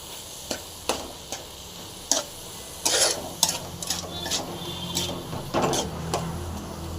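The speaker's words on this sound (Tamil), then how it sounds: "நல்லா அப்படியே கலந்து விடலாம்" Carrot halwa is stirred in a pan, a soft sizzle under repeated sharp scraping and clacking strokes of the spoon, irregular and close, growing busier midway with no voices.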